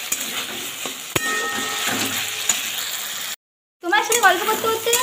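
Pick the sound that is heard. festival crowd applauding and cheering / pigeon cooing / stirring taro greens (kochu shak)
stirring taro greens (kochu shak)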